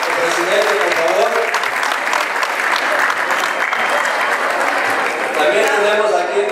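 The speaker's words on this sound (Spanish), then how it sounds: "Un aplauso para el presidente, por favor." At an ejido commissariat event, an audience applauds the municipal president with loud, continuous crowd clapping, while voices murmur through it.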